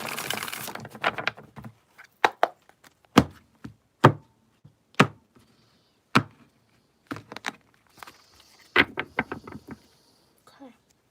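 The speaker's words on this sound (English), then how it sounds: "All right, last shuffle." A deck of tarot cards gets a last shuffle, heard as a scattered run of crisp, close taps and flicks, some spaced apart and others in quick bursts.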